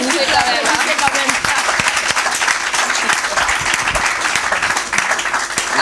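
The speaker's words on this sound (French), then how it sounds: "Applaudissez quand même." Sustained audience applause fills a large hall at a youth gathering with a prophet, dense and steady throughout with no pause, loud and close, with scattered voices mixed in.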